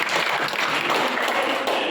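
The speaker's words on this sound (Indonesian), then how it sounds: "Aplaus untuk kita bersama." A classroom audience at a student debate claps together, a dense, steady wash of hand claps heard close and continuous for the whole short stretch.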